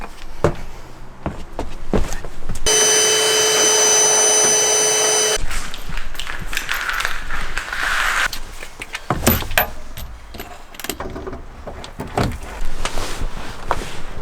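A steady whirring motor hum, like a vacuum cleaner, runs for a few seconds amid clattering and scraping handling noises nearby.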